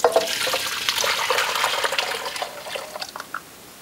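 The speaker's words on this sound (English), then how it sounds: "I'm going to add the soup base that we just prepared" Prepared soup base for a cheddar vegetable chowder pours into a slow cooker, a steady liquid splash and gurgle that tapers into a few final drips, with no talk.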